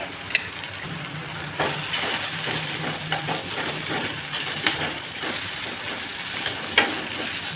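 Whole masoor lentils roast with a pinch of fine salt in a pan, giving a steady soft sizzle with scattered stirring scrapes and small clinks, close and continuous, with no voices.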